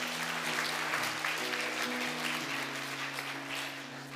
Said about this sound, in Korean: 다시 한번 큰 축복 박수 부탁드립니다